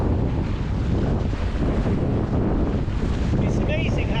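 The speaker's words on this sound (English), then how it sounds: "we've got 11 or 12 knot winds and 26 to 29 knot gusts" Strong wind roars and buffets across the microphone on a Mirror dinghy under sail in 26 to 29 knot gusts, a loud continuous rush with water noise beneath it.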